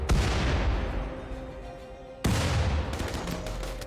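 Grenade explosions in a video game, a loud rumbling blast that decays into a long roll, then a second sharp, close detonation with crackling debris and scattered pops after it.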